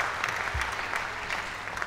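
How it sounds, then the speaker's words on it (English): A crowd at an airgun shooting championship applauds steadily throughout the clip, with a dense, continuous patter of clapping at moderate loudness. "She's waiting for the crowd to subside."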